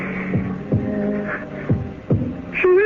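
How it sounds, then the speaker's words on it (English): Dull heartbeat thumps from a radio drama sound effect land in two double beats over a low steady hum, close and prominent, ending with a rising tonal swell. "It's not her heart that's beating. It's mine."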